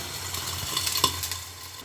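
Steak frying in a pan, a faint steady sizzle with a few soft clinks and stirring scrapes, heard alone without talk.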